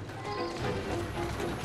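Hooves clip-clop at a steady trot in Assassin's Creed Syndicate, close and moderately loud, over a low rumbling background.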